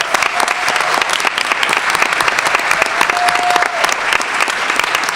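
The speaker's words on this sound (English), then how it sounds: "Can we give them a round of applause?" A school board meeting audience applauds steadily for support staff and Teachers of the Year, a dense, loud wash of clapping lasting several seconds with a faint tone briefly sounding partway through.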